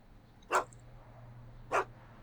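Einstein, the dog in the Back to the Future video game, gives two short, separate barks about a second apart over a low, steady hum in an otherwise quiet scene.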